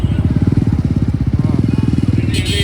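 A motorcycle on a long-distance highway ride from Bangalore to Dharmastala, its engine throbbing in a fast, steady pulse close to the microphone, loud and unbroken, with a brief rise in pitch near the end.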